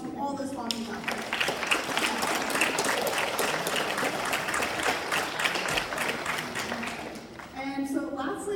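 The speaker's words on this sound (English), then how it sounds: "So can we give a round of applause to all those sponsors out there?" Audience at a SoHacks hackathon keynote applauds the event's sponsors, a steady wash of many hands clapping that fills the whole stretch, with voices faintly heard at the start and end.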